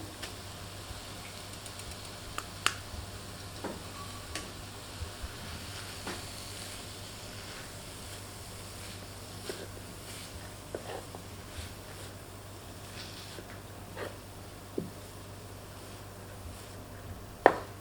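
Rice and vegetables are stirred together on a tawa for tawa pulao, a faint steady sizzle under soft scattered scraping clicks from the stirring, quiet and continuous with no talking.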